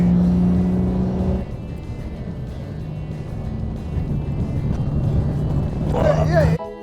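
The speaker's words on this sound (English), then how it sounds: "What a Corvette, yeah boy, that's sick" A Corvette sports car engine roars and whirs as it passes on the Nürburgring, building and fading, with people talking over the engine noise.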